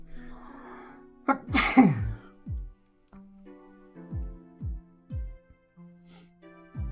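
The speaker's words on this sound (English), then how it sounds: "oh my god, I gotta sneeze now" A single sharp sneeze from a person bursts out loud and close, with low voiced sounds and breathy noises before and after it.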